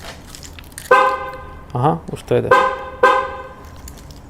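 A Škoda Octavia 3 horn gives short honks as an acoustic lock confirmation, several brief loud blasts spaced apart, with a person speaking quietly in between.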